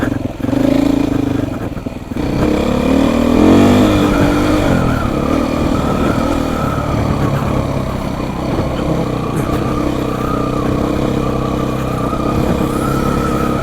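A Beta motorcycle engine revs steadily while riding, a loud, continuous buzzing drone close to the ear with small shifts in pitch as the throttle changes, running alone from start to finish.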